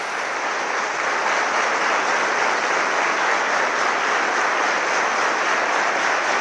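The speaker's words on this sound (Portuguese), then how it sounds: "palmas para Jesus" A church congregation at Tabernáculo da Fé applauds for Jesus in a dense, continuous wash of clapping that stays loud and even throughout, with no voices standing out.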